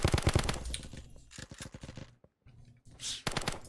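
SCAR rifle fire in the online shooter Kirka.io comes in rapid automatic bursts, loud and close, with a brief pause before a final burst.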